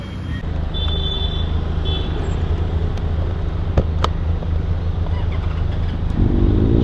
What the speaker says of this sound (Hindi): बाइक्स चालू हो गई है अभी